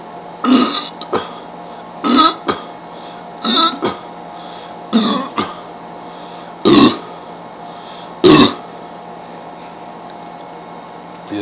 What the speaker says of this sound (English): thought I had a burp coming